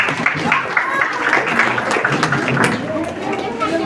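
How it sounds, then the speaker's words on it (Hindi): An audience at a school Grandparents Day celebration applauds loudly in a steady, dense wash of clapping and crowd chatter lasting the whole moment, close and full. "जोरदार तालियों के साथ इनका स्वागत करिए।"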